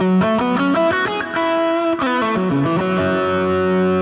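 An electric guitar played through a Line 6 POD Go preset on the Lone Star amp model gives a distorted lead tone, quick picked melodic runs ringing out then settling onto a sustained held note, loud and close with no talk.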